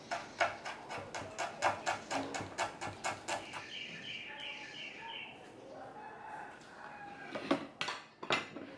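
A knife slices a rolled aromatic leaf thinly on a cutting board in quick, even chops for about four seconds. Softer clatters and a brief burst of talk follow.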